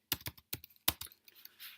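Fingers tap a computer keyboard in a quick, uneven run of clicks, close and fairly quiet, trailing off into softer scattered taps.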